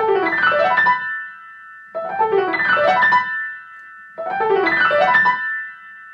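Three quick bursts of rapid, bright piano figures imitate birdsong, each a rush of dense high notes struck decisively and cut off abruptly, separated by short silences.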